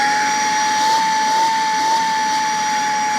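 A small vacuum cleaner runs with a steady, high-pitched motor whine over a breathy airflow hiss, close and continuous with no pauses.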